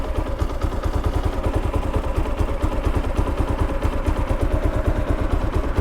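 A Kawasaki KLR650 motorcycle engine barely idling in first gear, a close, loud, rapid even chuffing pulse that runs steadily throughout with no voices.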